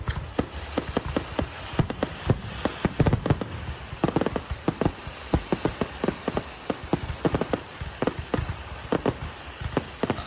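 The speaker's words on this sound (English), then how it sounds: "We have our fireworks." Fireworks at the Hillsborough NJ Rotary Fair, a continuous barrage of distant crackling pops and bangs arriving in rapid irregular bursts, some louder thumps standing out over a dense rattling background.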